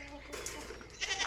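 Goats on a farm bleat in short, fairly faint calls mixed with nearby talking voices, with a louder burst of bleating near the end.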